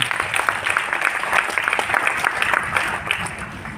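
An audience claps loudly and steadily for a newly presented system, a dense wash of hand claps sustained at an even level from start to finish, with no break.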